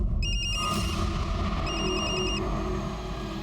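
A phone ringtone sounds in two bursts of loud, high electronic beeps with a pause between them, over a dense low hum and no talking.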